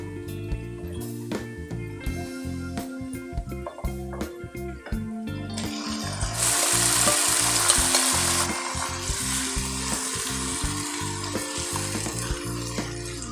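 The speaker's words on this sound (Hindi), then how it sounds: "जो मैंने मैरिनेट किया हुआ गोश्त है वो डाल दूंगी इसमें।" Marinated mutton pieces sizzle loudly in a pan of hot oil, a steady crackling fry that swells into a brighter, stronger hiss midway through, with faint clanks of stirring underneath.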